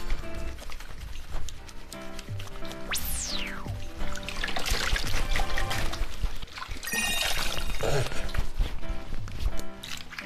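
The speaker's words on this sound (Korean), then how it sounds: "이게 뜨거운 물이 엄청 나온다" Hot water runs from a shower tap in a steady rushing spray that lasts throughout, with a rising whistle-like sweep early on and clattering and shifting sounds alongside; someone talks over it.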